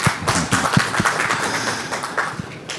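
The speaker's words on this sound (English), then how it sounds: "So a round of applause for Sandeep." A small audience at a panel event on Indian denim brands gives the host a brief round of applause, sparse and uneven claps with light tapping thuds rather than a full ovation.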